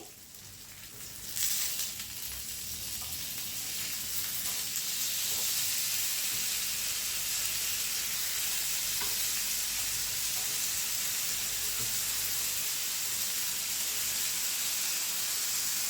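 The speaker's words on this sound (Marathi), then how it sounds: "तर आपलं फिश आहे हे व्यवस्थित फ्राय झालेलं आहे" Marinated fish fries Malvani style in a pan over a slow-to-medium flame, producing a continuous loud, even sizzle and hiss that swells after the first couple of seconds and holds steady, with no voices.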